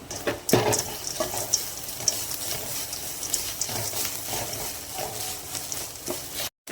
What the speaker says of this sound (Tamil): இந்த தேங்காய் வந்து நல்லா ஒரு ரெண்டுலேருந்து மூணு நிமிஷம் நல்லா வந்து எண்ணெயிலே வந்து நல்லா வறுத்து எடுத்துக்கலாம்